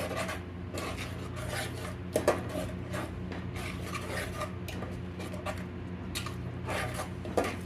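Spices with garam masala and coriander powder are mixed in a cooking pot for paneer pulao, making continuous close rasping and scraping of a spoon against the pot, with occasional sharper metallic knocks; no voices.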